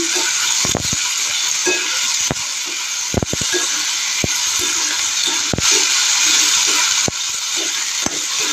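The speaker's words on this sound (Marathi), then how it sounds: "हे बघा, ह्यासह 2 मिनटं परतून घ्या।" Thin potato slices sautéing in a pan, a steady close sizzle broken by repeated sharp spatula knocks and scrapes at irregular intervals.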